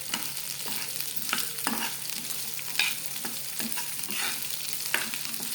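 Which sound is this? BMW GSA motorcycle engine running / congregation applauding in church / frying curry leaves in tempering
frying curry leaves in tempering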